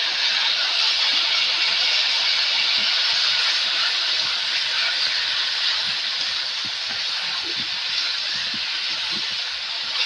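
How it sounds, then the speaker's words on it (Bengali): Ground onion paste frying in a pan after the potatoes are done, a loud, steady broadband sizzle and hiss throughout, with faint scraping ticks underneath. "পেঁয়াজ বাটাটা ভালো করে ভেজে নিতে হবে।"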